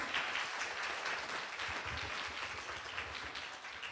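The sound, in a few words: applause for the speakers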